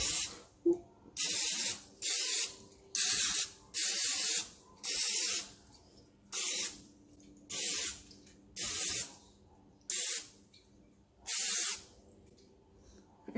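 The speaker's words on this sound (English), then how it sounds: "Okay, so I'm going to spray all of these." A spray bottle pumped about a dozen times in quick bursts, each hissing spritz close and fairly loud, with brief pauses between squeezes.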